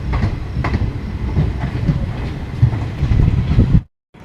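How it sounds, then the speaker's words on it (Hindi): The Varanasi Bareilly Express pulls away from platform 2 at Rudauli, a loud, close rumble of rolling rail wagons with a rhythmic clickety-clack of wheels that ends abruptly. "रुदौली के प्लेटफॉर्म नंबर 2 से हमारी वाराणसी बरेली एक्सप्रेस का डिपार्चर हो गया है।"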